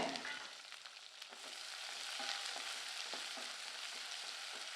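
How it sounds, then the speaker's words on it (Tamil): Chopped onions sizzle and crackle in hot oil, a steady close frying hiss with occasional stirring scrapes. "ஒரு பெரிய வெங்காயம் பொடியாக நறுக்கி வச்சுருக்கேன் இதை சேர்த்து நல்லா வதக்கி விட்டுக்கலாங்க"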